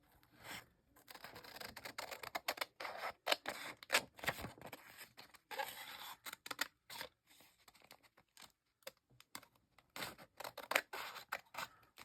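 Scissors snip through paper while a small handmade zine is being cut out, producing dense runs of crisp, close cuts with short pauses, some light paper crinkling, and no talking.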